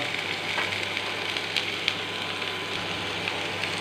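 Mustard seeds spluttering and popping in hot oil in a pan for a vegetable stir-fry, a close, continuous sizzle with scattered small crackles.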